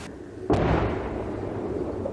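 An artillery shell explodes in a single heavy blast, erupting suddenly, broad and loud, then a long rumbling roar and debris noise lingers without fading much.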